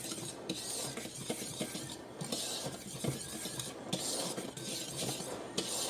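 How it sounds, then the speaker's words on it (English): Dry seitan ingredients, cumin among them, are stirred and scraped in a bowl. The scraping, rubbing strokes are soft and continuous, with occasional light knocks and no speech. "Mix it all up very well."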